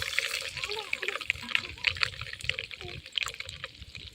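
Mustard seeds and curry leaves sizzle in hot cooking oil, a steady bright crackling hiss dotted with sharp little pops, close and fairly loud throughout.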